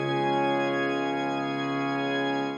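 A sustained organ chord holds steady for a couple of seconds, rich and full, then cuts off at the end.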